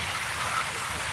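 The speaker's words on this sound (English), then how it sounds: "There's fountains here." Park fountains in Ukraine on a morning, water splashing as a steady, soft broadband wash like light rain, continuous and fairly faint with no talk.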